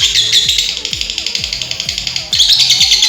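A pet lovebird chirps in rapid, repetitive high tweets, close and loud, with a brief break before the calling resumes; a faint rhythmic low thumping runs underneath.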